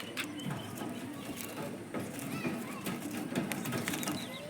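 Pigeons shut in a cage give soft, low cooing calls close by over a dense, steady bed of ambient noise and faint background voices.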